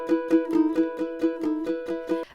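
Ukulele picks the opening riff of a song in E, a bouncy run of about ten short, evenly spaced plucked notes, close and moderately quiet, ending on a brief strum.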